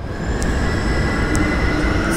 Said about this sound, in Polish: O, to jest pociąg.